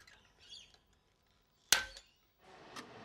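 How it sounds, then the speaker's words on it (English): A blind rivet's steel mandrel snaps off in a riveting tool, a single sharp, loud crack standing alone after a few faint handling noises, followed by a brief rustle. "Then the mandrel snaps off, leaving the head behind."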